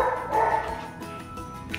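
A dog barks indoors in a house, a couple of quick yips and bow-wows up front, then quieter whimpering sounds trailing off, fairly close.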